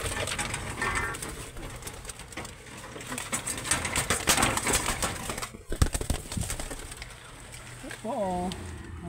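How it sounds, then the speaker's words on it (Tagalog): A pigeon cooing in a soft, repeated rising-and-falling call, mixed with people talking and light tapping and rustling around it. "Palapad na naman itong kalapati ko."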